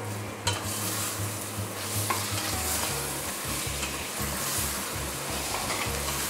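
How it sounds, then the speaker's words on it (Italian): Salt cod goes into a pan of softened onion and fries with a steady, dense sizzle, and a spoon stirs and scrapes through it with repeated low knocks. "Appena si ammorbidisce la cipolla, aggiungiamo il baccalà."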